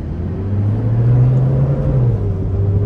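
A car engine revs steadily, a loud low hum that swells in the middle and eases back slightly, heard up close without talk.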